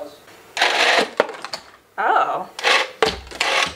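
A money gun's small motor whirs in several short bursts as it fires business cards, each burst a few tenths of a second long, close and fairly loud, with a voice speaking between bursts.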